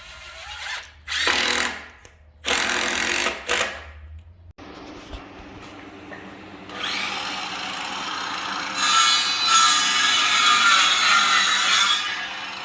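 A power tool cuts strips into wood to notch a brace board for a chicken coop. Several short, loud bursts come first with pauses between them, then a longer, steadier stretch of grinding. Nobody talks.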